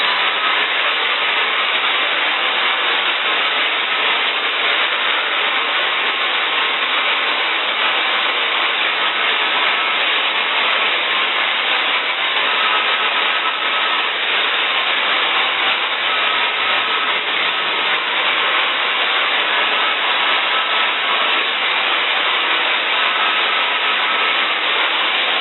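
A hair dryer blows steadily on its high heat setting while drying hair, a loud, constant airy roar that holds unchanged for the whole stretch with no talking.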